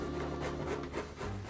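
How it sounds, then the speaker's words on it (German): A pineapple rasps against a kitchen grater in quick, close rubbing strokes. It lasts about a second and a half, with no talking. "Und dann reiben wir einfach die Ananas hier durch."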